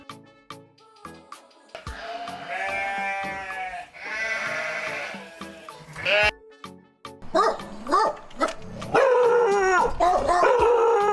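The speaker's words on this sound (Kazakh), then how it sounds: "Қой." Sheep bleat in a run of wavering, nasal calls, several separate cries with short gaps between them, close and clear with no talk.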